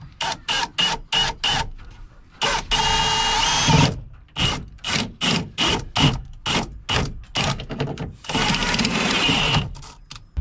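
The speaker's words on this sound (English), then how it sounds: "I've bought a step bit, which we're going to drill out that hole" A step drill bit cuts a 20 mm hole for marine radio cabling, a loud close whine in repeated short bursts of a fraction of a second each, broken by two longer steady runs.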